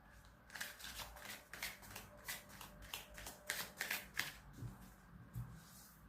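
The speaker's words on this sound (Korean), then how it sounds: "이번 여러분들께 필요한 조언 카드 한 장 뽑으면서" A tarot card is drawn from the deck with a run of soft, close papery swipes and flicks. The rustling comes in irregular bursts over a quiet background, with no voices.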